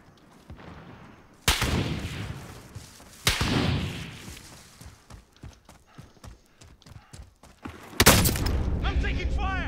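Gunfire and explosions in Call of Duty Warzone: three heavy booms hit at intervals among rapid sharp cracks and scattered shots, with a voice heard between the blasts.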